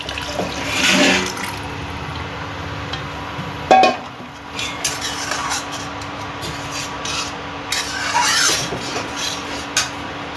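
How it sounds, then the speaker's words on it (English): Water poured from a bowl holding leftover kofta juices into a kadhai for curry gravy, a close splashing and rushing in short bursts with scraping sounds between pours, no talking. "I have added some water here and now adding the whole thing in the kadhai."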